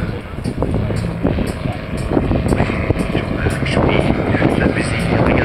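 A propeller aircraft engine drones loudly and steadily at the La Ferté-Alais air show, with people talking over it throughout.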